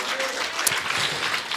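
A church congregation gives a short burst of dense, sustained applause that fills the room, many hands clapping together throughout.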